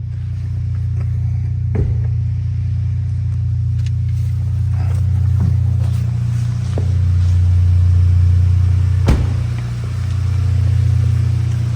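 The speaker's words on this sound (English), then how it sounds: "further enhancing the slight burble that these Clubsports make" A Volkswagen Golf GTI Clubsport Edition 40 with an aftermarket exhaust and remap idles close by with a steady, deep burble. A few sharp pops and light revs rise out of the continuous low drone.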